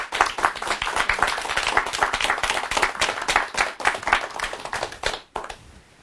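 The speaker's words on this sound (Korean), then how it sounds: "큰 박수 부탁드립니다." An audience at a lecture on leadership claps warmly to welcome a guest speaker, dense applause holding steady for about five seconds before stopping abruptly, with a few scattered claps trailing off.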